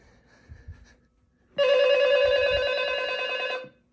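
An electronic telephone ring sounds from the handset of a Gemmy life-size Ghost Face Halloween prop, one sustained buzzy trill lasting about two seconds after a few faint handling clicks.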